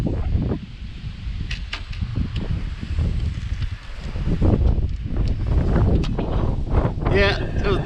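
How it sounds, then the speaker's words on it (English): Strong gusty wind buffets the microphone outdoors, a loud roaring rush with a few faint knocks and rustles, no voices in between. "Had to be windy out here today, and it's really windy."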